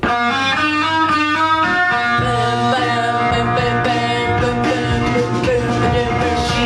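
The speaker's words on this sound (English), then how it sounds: "it really feels like the bass is establishing that similar drone feel because it's not changing note" A bass guitar holds one repeated low note as a steady drone while distorted, effected parts shift above it, dense and continuous throughout.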